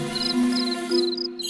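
Cartoon crickets chirping in short repeated high bursts over a steady tonal backdrop, close and fairly loud.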